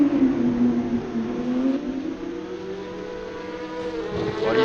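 Porsche 911 GT3 992 Cup race car engine droning loudly at close range, its pitch dipping and resettling as it goes into a gear change the car dislikes, with a rising rev near the end.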